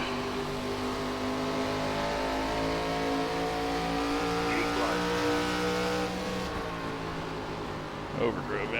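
Race car engine from an ARCA stock car in iRacing at Iowa, droning steadily and loud throughout with harmonic whine, a brief tire chirp near the end, and a voice talking over it.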